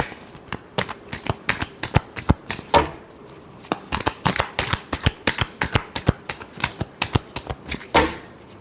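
Tarot cards being shuffled by hand, a steady run of crisp riffling snaps and slaps close by, repeating in quick irregular bursts with brief pauses and no talking.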